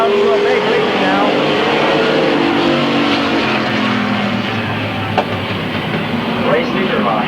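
Stock cars race around Midvale Speedway in 1995, a loud continuous roar of engines blending into a dense rumble with occasional passing surges, while an announcer calls the action over the noise.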